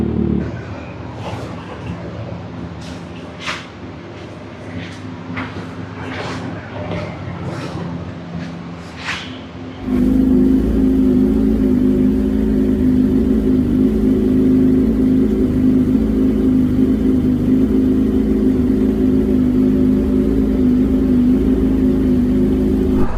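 A loud superbike engine idles with a steady low rumble and throaty hum, louder and fuller in the second half, after a stretch of quieter background with faint voices.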